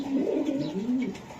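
Four racer pigeons, among them a red female, give low rolling coos close by, the phrases rising and falling with no talk over them.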